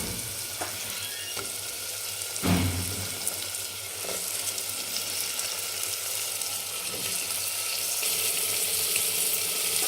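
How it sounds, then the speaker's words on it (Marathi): Ridge gourd going into a pan of softened tomatoes sets off a steady, moderate sizzle with a few stirring knocks, heard alone without talk. "या वेळेला आपण आता याच्यामध्ये दोडका टाकून देणार आहे"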